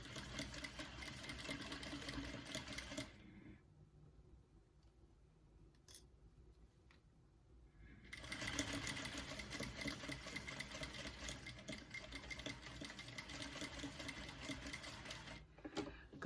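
A sewing machine stitches slowly across zipper tabs and zipper teeth on a bag, its steady mechanical whirring running for about three seconds, pausing for several seconds of near quiet, then resuming in a long continuous run to the end.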